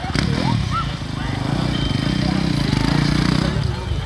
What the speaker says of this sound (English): Scott Phillipson now just putting that quad bike in.